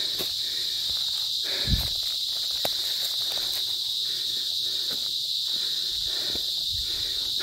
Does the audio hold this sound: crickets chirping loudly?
yes